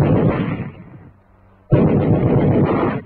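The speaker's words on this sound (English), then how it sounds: "A machine gun." Two long, loud bursts of rapid gunfire from a machine gun, separated by a brief quiet pause, with heavy low rumble and dense crackle, heard in a 1943 US Army training film with no talking.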